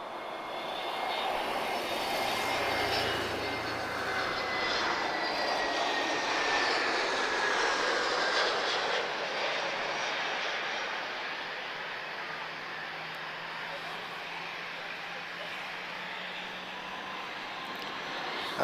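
An Airbus A321neo jet landing at Lisbon Airport gives a long, sustained engine roar with a faint whine, swelling mid-pass and then easing gradually as it moves away.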